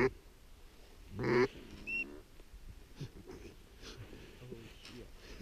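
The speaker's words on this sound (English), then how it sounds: "It's raining ducks." Ducks falling from the sky in North Dakota give a few short quacks and wheezy calls, one louder burst near the start, among scattered voices and noises outdoors.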